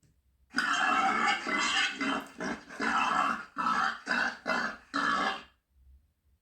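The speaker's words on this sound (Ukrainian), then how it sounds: "Це свинята говорить хро, хро, хро." A run of rough, guttural grunts comes in quick bursts, close and loud, then stops.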